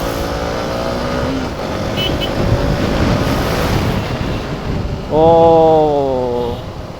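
Riding a motorcycle sends steady wind buffeting into a helmet-mounted mic on a DJI Osmo Action 4 camera, a broad rushing roar that holds throughout. Engine tones rise and fall under it, and the roar swells near the end.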